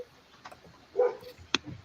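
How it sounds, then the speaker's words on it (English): A couple of short, soft dog barks or yips, somewhat distant and faint against a quiet background. "Who's got the chatty neighbor dog?"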